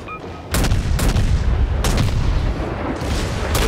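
Heavy naval guns boom in World of Warships around a Tier 7 US destroyer, the Mahan: several loud, close blasts fire one after another with rumbling tails in between.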